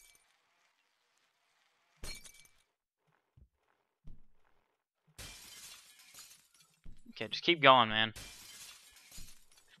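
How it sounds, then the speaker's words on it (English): Invisible glass shatters in Happy Wheels with a sharp crash, followed by a loud, bright burst of breaking shards and a few clinks, while someone talks over parts of it. "Break all the glass."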